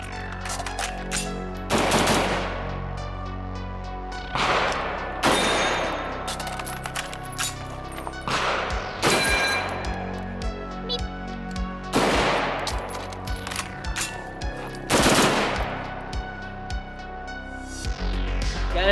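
PWS MK116 MOD2 AR15 rifle in 7.62x39 fired in rapid strings, several loud bursts of shots spaced across the stretch with ringing echoes between them, no talk.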